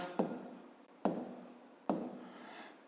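Hand writing out a maths sum for a fifth-grade exercise, three scratchy pen strokes at roughly even intervals, each opening with a crisp tap and fading, close and soft.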